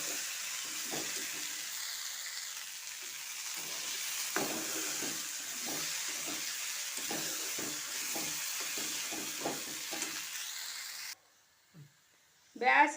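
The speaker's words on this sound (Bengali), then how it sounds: "আর আমি ফোড়ন দিয়েছি শুকনো লঙ্কা, গোটা জিরে আর পেঁয়াজ দিয়ে প্রথমে ধোসার মশলাটা আমি করে নিচ্ছি।" Potato dosa filling frying in a pan with dried red chilli, whole cumin and onion, a steady soft sizzle with repeated light stirring scrapes throughout, then a brief quiet and a clatter at the end.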